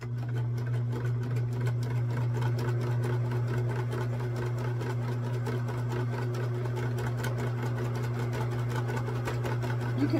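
Sewing machine running steadily for about ten seconds, stitching down pleats on a vintage handkerchief butterfly quilt block, a continuous close hum with fine rapid needle chatter and no pauses.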